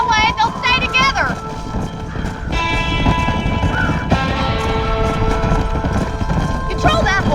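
Horse hooves clip-clop steadily during a cattle drive in the Red Dead Redemption video game. The hoofbeats sit under loud, shouting voices, occasional whistles and a sustained musical tone.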